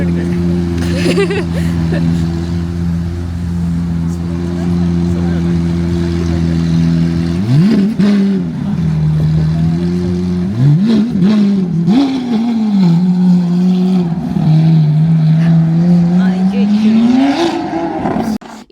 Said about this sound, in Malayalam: നിങ്ങൾ ഈ ലംബോർഗിനിനെ കണ്ടോ?